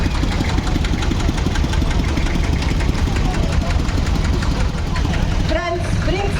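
Štajer tractor engine running steadily at an agricultural festival with old and new tractors, a continuous low knocking rumble close by, with crowd voices and other noise mixed in throughout.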